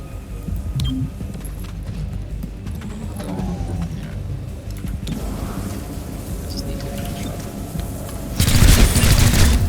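Video game gunfire in XCOM: Chimera Squad, a rapid fusillade of shots over a low rumbling game soundscape, ending in a louder, brighter burst.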